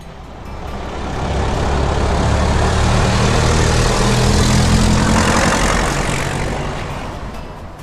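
A green classic truck's engine runs loud and close with a heavy, steady rumble that swells in and fades out over about eight seconds, with no other sounds.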